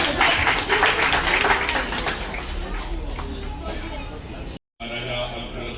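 An audience claps loudly to welcome a guest at an Agrawal community gathering in Bhopal for the Agrasen Maharaj Jayanti, dense applause mixed with crowd murmur, fading slightly before a brief cut.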